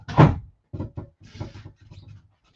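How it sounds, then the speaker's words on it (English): A door pushed shut indoors at a home craft table, a sharp close thud at the start followed by a few softer knocks and rattles, fairly near and alone without talk. "I'm going to close the door."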